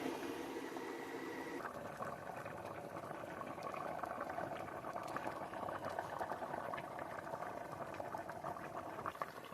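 Homemade dumplings simmer in boiling turkey broth, a steady bubbling roll that grows fuller after a couple of seconds and keeps churning evenly throughout with no voices.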